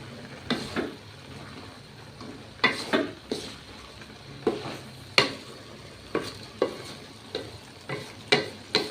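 Spatula stirring a stir-fry of white cabbage and sausage in a pan with a faint sizzle underneath, a series of scraping strokes in an irregular rhythm, close and moderately quiet.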